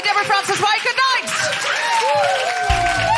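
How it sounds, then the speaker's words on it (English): A live audience applauds at the close of a comedy podcast recording, a steady wash of clapping that runs through the whole stretch beneath someone speaking loudly over it. "Big last round of applause for Lauren."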